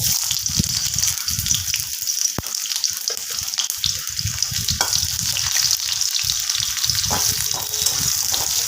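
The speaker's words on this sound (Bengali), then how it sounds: "এবার আমি কড়ার মধ্যে দিয়ে দেব অল্প একটু পেঁয়াজ" Chopped onion sizzles loudly in hot oil in a kadai while dahi soybean curry is prepared, a steady bright frying hiss with stirring and scraping clatter running throughout.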